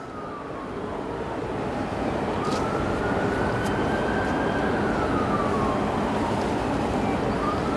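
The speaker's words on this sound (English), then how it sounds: "I hear an ambulance or something coming" An ambulance or similar emergency siren wails faintly in the distance, its slow rising and falling tone carried over steady, loud outdoor background noise throughout.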